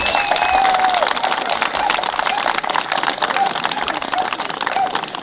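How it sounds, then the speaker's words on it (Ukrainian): A stadium crowd at a charity football match claps steadily in a dense, continuous patter of applause, with a voice carrying over it. "Ваші аплодисменти."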